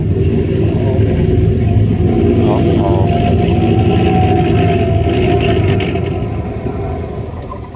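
A military tank driving fast makes a loud, sustained engine roar with track rumble, holding steady before easing off toward the end.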